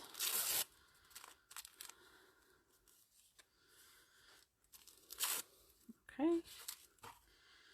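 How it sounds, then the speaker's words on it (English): Small pieces of paper are torn by hand for an acrylic art journal, giving several short, crisp ripping bursts separated by quiet gaps, with a brief spoken word partway through. "Let's just tear some little bits."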